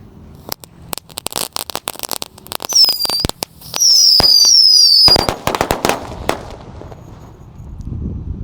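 A whole pack of dino egg firecrackers goes off at once: rapid, loud, close bangs and crackles, then a burst of shrill whistling, before scattered pops fade into quieter rumble.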